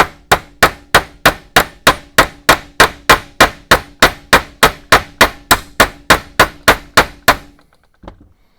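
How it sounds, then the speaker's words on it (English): Twenty or so steady, evenly spaced metal hammer taps drive a pin through a Ford Model A distributor, loud and close, each a sharp ring with a quick decay, followed by a brief soft clunk. "I'm going to tap it through, and then I'm going to mushroom out the ends of this pin."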